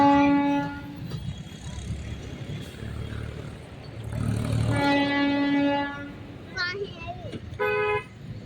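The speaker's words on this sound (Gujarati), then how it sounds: "રેલગાડી આવી ગઈ છે।" A train pulls into the station at Savarkundla, its horn sounding in several loud tooting blasts over rumbling wheels and ambient noise, with people talking nearby.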